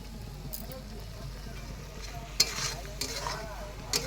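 Spices are stir-fried in a pan with a soft, steady sizzle and a few sharp scraping stirs, quiet and close, with faint background sound.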